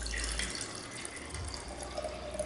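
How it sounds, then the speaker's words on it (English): Liquid is poured steadily onto a kitchen scale while measuring for homemade seitan, a soft continuous trickle and splash that is faint and close, with no talking. "that's going to pour right out on my scale"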